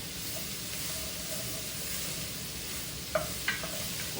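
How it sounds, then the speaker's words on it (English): Chowder vegetables sweating in a pan, with a steady soft sizzle and hiss throughout and a couple of light utensil clinks near the end, with no voices. "right now, I just want to let these vegetables sweat"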